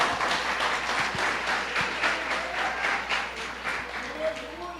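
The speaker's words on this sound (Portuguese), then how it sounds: "Você pode aplaudir ao Senhor com o seu melhor." A church congregation claps together in a steady, moderately loud wash of applause, with a voice speaking over it throughout.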